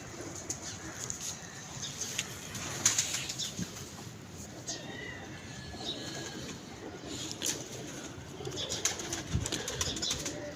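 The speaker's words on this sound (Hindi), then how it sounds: "नबील भाई लाओ ज़रा कबूतर का शौक कराओ।" Pigeon wings flap repeatedly in bursts, with a few soft coos and birdsong in the background over steady outdoor noise.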